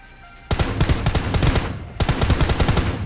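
Loud automatic gunfire from a gun in the game Ring of Elysium rattles off in two close bursts of rapid shots, separated by a short pause.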